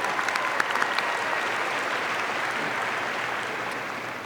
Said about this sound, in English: How will we give Fatima one more round of applause?